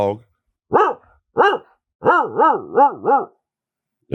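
A turkey caller imitates a dog barking by voice, giving two short separate barks followed by a quick run of four yapping barks, close and clear.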